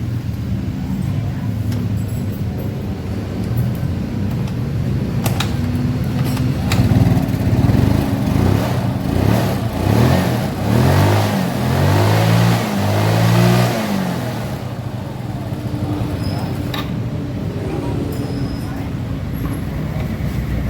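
A Yamaha Mio Soul scooter that won't start properly is kick-started in a repair shop and its engine revs up and down loudly and continuously.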